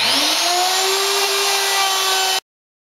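A hybrid pantorouter with a spinning router bit cuts a mortise in wood, giving a loud, steady whining roar that rises in pitch briefly at the start and then cuts off abruptly.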